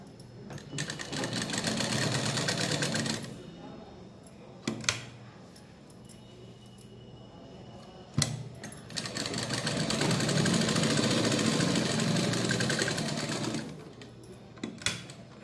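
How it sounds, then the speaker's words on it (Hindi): Sewing machine stitching pajama fabric, two long steady runs of fast motor whirring and needle chatter separated by a pause with a few sharp clicks, close and fairly loud. "देख के सिलाई चलानी है।"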